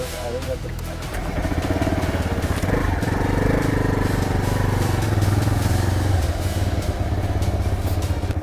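Motorcycle engine catching and settling into a steady, throbbing idle that runs close by for several seconds, with people talking over it.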